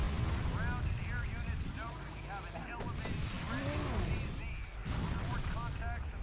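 A missile explodes in The Incredible Hulk: Ultimate Destruction video game, a rough, rumbling blast among continuous battle noise, quiet overall, with someone talking over it.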